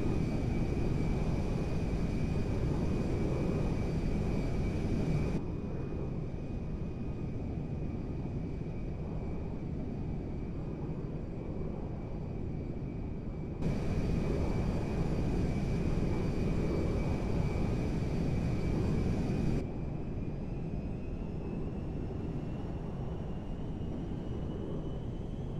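Steady broadband roar of a cargo jet in flight in GTA V, continuous and loud with a faint high whine, swelling in two stretches, no voices.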